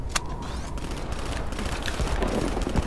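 Gunfire in Call of Duty Black Ops 3 multiplayer, a steady dense clatter of shots and bursts that runs under the whole stretch with no talk over it, some sharp reports standing out.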